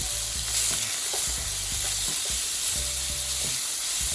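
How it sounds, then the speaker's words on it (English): Lamb chops searing in a hot pan ahead of braising, a loud, close, continuous sizzle and hiss with faint utensil clinks and scraping underneath, and no voices. "since I'm going to braise these, I want to go ahead and get them seared"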